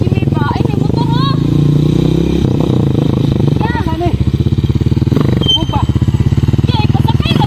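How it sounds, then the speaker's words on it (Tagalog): Habal-habal motorcycle engine running steadily nearby, a continuous loud rumble throughout with revving swells, while people talk over it. "Ay, may motor ha."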